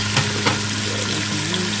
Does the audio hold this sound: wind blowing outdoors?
no